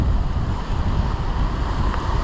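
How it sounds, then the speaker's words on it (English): Ocean waves rolling in on a rising tide at Pescadero Beach, a loud continuous roar of surf mixed with heavy wind rumble on the microphone, close and unbroken. "these waves are getting bigger and the tide is coming in"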